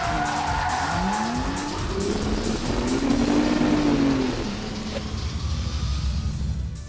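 A rally car is driven hard through corners, its engine revving loud and close while the tires squeal in long rising and falling whines, and gravel and road noise run under it the whole way.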